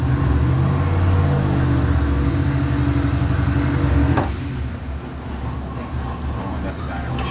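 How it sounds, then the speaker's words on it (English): A Ford 302 V8 on a dyno runs loud and rough with an uneven, stumbling beat for about four seconds, then cuts out sharply, leaving quieter low rumbling and a few faint pops and clatters. "Oh, that's a dyno issue. It's popping again."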